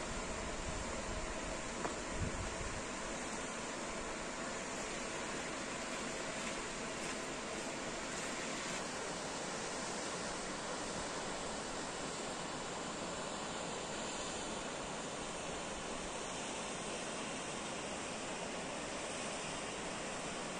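A waterfall at the Zillergrund reservoir in the mountains roars as a constant, dense broadband rush with no pauses.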